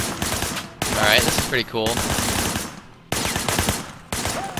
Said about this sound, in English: I want you to put some bullets in a few things.